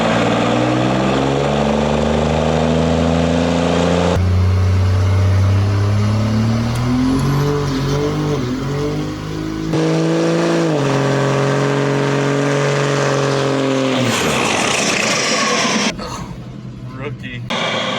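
A car fitted with a 364 turbo engine doing a burnout, its engine revving loud and sustained for the whole stretch, rising and shifting in pitch with bursts of tyre and exhaust noise, while people talk over it.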